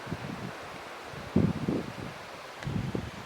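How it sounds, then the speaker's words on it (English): Wind gusts rush and buffet the microphone in a few low, blustery bursts against a steady outdoor hiss. "At least the sun came out, but it's windy."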